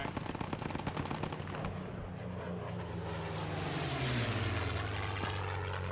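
Spitfire fighter plane flying over in a World War II video game set during Operation Market Garden at Driel, with a rapid machine-gun clatter first, then a rising propeller engine drone sweeping past.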